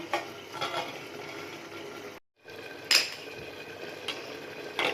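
A lid clanks onto a pressure cooker of water in a home kitchen, a few close metallic clinks and scrapes with a brief silent gap mid-way.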